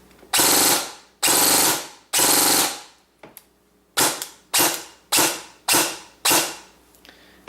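Modified motor in a toy blaster firing on full auto, a series of loud, sharp bursts: three long ones, a brief gap, then five shorter bursts in a steady rhythm, close and alone.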